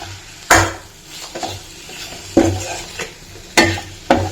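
A spoon stirring tomato rasam in a pot, with several sharp knocks and scrapes against the metal over a soft background sizzle, close and fairly loud, no talking.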